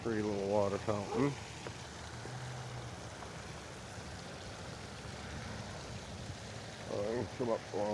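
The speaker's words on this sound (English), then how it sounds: "Pretty little water fountain." A small outdoor water fountain on a waterfront trail in Bucksport, Maine splashes in a steady, even wash of water. Someone talks briefly at the start and again near the end.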